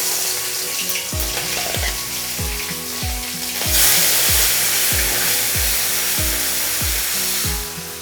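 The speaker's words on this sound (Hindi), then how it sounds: "मस्टर्ड ऑयल यानी सरसों का तेल 1 बड़ा चम्मच डाल दिया है" Small fish frying in hot mustard oil, a loud continuous close sizzle with repeated clanking strikes of a utensil against the pan throughout.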